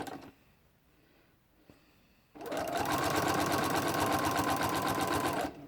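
A sewing machine fitted with a walking foot binds a quilt; after a quiet pause and a small click, the motor starts and runs in a steady, loud, rapid rhythmic whir close by, no talking.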